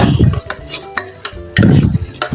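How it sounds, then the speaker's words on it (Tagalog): Pork belly sautéed in a pan for sinigang na liempo with banana blossom, a metal utensil scraping and clanking against the pan in close, uneven strokes over a faint sizzle. "igigisa lang po natin ito guys hanggang sa uh, medyo mag brown po yung karni"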